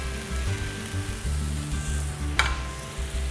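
Peas, carrots, corn and scallions sizzle steadily in a non-stick pan of fried rice, a close, continuous frying hiss with a brief sharper crackle partway through.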